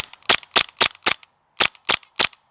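Seven sharp, loud shots from a toy or airsoft-style gun that mimics the full recoil of a 9mm pistol, fired in two quick groups of four and three with short silent gaps between them.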